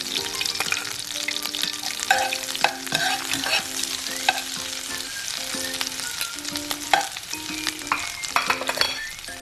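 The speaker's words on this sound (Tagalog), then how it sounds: "Nag-melt yung ating butter, pwede na nating ilagay yung ating garlic." Garlic sizzles steadily in melted butter in a pan for a Filipino shrimp dish, with a continuous hiss broken by scrapes and clinks of stirring, close and fairly loud throughout.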